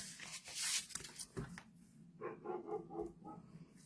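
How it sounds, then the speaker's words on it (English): Dog barking in a home craft room, a few short muffled yaps in quick succession, faint and somewhat distant, after some rustling and tapping nearby. "Oh, that would be my dog, if you can hear that."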